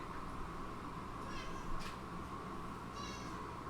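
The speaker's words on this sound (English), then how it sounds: "I could hear her meowing" A cat meows twice, a short cry and then a longer one, moderately near over a steady hum of background noise.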